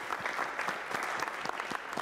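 An audience at a local council leader's public question time gives a round of applause, a steady patter of many clapping hands at moderate distance with no voices over it.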